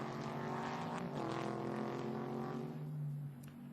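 An Audi R8 LMS and a Mercedes SLS GT race car run close together on a circuit, a sustained engine howl with shifting tones passing by, fading slightly at the end.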